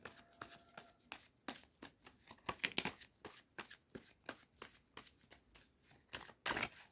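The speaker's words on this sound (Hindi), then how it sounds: "so we will take all these cards." A deck of tarot cards is shuffled by hand close up, with rapid, rhythmic riffling and flicking bursts repeating steadily throughout.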